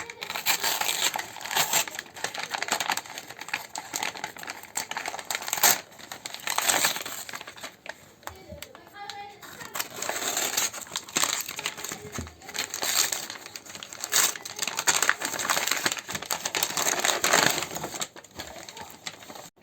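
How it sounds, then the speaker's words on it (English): Plastic wrapping on a new Oxford dictionary crinkles and crackles in repeated bursts as it is pulled off, close and fairly quiet, with no talking. "today I'm going to unwrap my new Oxford dictionary"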